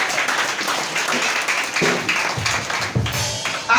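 A church congregation applauds during a French-language sermon, a dense, steady wash of many hands clapping at moderate volume throughout, with a few louder bursts near the end.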